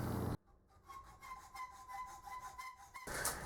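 A small metal part is cut to length with a hand saw in a workshop, rapid rasping strokes repeating steadily at close range after a brief louder noise at the start, then a louder sound returns at the end.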